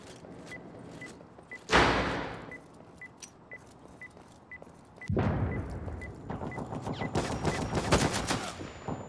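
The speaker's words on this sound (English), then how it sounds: "Damn it, I got shot from somewhere else." Gunfire in the video game Due Process, one loud blast followed by a rapid crackling burst of shots, with faint regular clicks in between.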